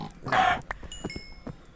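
A pig in the video game Minecraft gives a loud, close grunt, followed by a few fainter clicks and soft game sounds.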